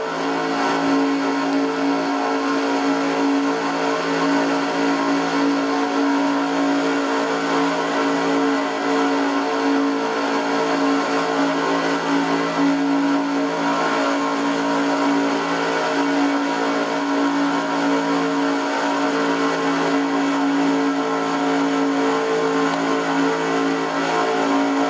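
An onboard race car engine from a racing video game at Talladega speedway holds a loud, constant high drone throughout, with no change in pitch and no talk.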